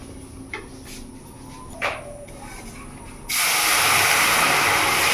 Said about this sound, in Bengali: আমি এবার জল ঢেলে দেবো।